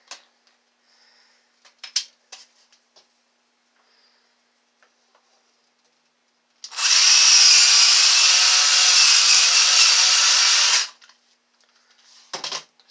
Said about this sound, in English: now since I drilled that through